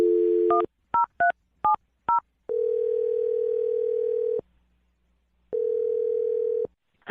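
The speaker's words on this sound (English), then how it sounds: "I'm going to dial the phone number right now." A telephone number is dialed on a phone, a quick series of short touch-tone beeps followed by two long steady ringback tones separated by a pause, clear and close with no speech.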